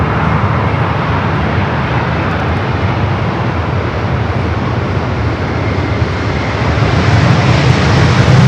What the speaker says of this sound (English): Dreamliner heading our direction